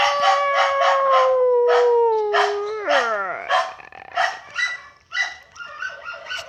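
Video game dogs bark and yelp in quick bursts, with a long drawn-out howl that bends downward partway through, loud and close.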